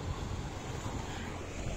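Sea waves wash continuously onto a Spanish shore, a steady broad rumble of surf mixed with wind buffeting the microphone, with no voices.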